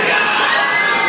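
A large crowd of fans roars and shouts at a live outdoor rock concert in Aleksinac, a loud, continuous wash of cheering and whistling with no break.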